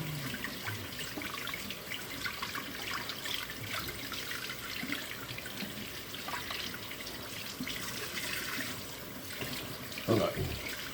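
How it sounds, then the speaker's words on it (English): Running tap water streams steadily into a sink while hands are washed clean of sticky potato gnocchi dough in a home kitchen, a constant watery hiss with a brief splash near the end. "Now, wash off my hands for a second."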